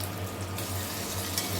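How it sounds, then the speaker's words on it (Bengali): Teasel gourd slices coated in gram flour fry in oil with a steady, close sizzle and a faint low hum beneath. No one speaks. "এখন এর মধ্যে একটু তেল দিয়ে দিচ্ছি উপর থেকে, যাতে বেসনটা একটু ভাজা হয়ে যায়"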